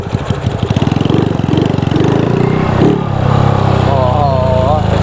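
Honda Dream motorcycle with a loose exhaust pipe, its engine note running steadily and fairly loud close by throughout, with a voice talking over it toward the end.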